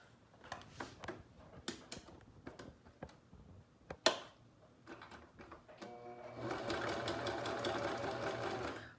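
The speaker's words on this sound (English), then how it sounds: "we're gonna stitch this side and this side a half of inch wide." A sewing machine stitches the side seams of a pleated fabric face mask, starting with scattered clicks and short handling sounds, then running steadily and loud for the last few seconds.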